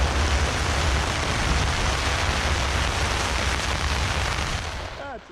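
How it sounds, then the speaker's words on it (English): Heavy rain pours down steadily at an outdoor drag strip as a dense, loud hiss that fills the whole scene, then eases and fades right at the end. "That's raining."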